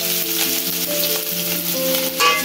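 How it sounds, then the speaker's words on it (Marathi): Onion frying in a pan with garlic cloves gives a continuous moderate sizzle, close and steady, with soft stirring under melodic background music. "थोडा कांदा टाकून घेतले"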